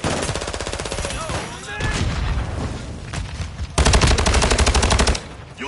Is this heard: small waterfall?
no